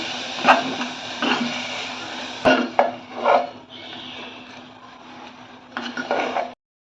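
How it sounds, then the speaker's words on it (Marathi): Metal spoon scraping and knocking against a pan while spice paste is sautéed in oil, intermittent clinks and scrapes at close range over a steady low hum, alone with no talking. "हे आपण मिक्स करून घेऊया तेलामध्ये छान परतून घ्यायचं वाटण आपल्याला"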